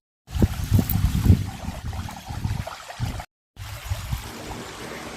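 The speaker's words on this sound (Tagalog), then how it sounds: "puro huni ng mga ibon at lagaslas ng tubig lang ang maririnig mo" Water flowing and splashing at Jawili Falls in Tangalan, Aklan, a steady rushing wash with bubbling low churn, briefly cutting out before resuming more quietly.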